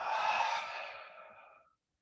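A long, steady exhale during a qigong breathing exercise, close and fairly loud, a breathy rush that fades out over about two seconds before silence.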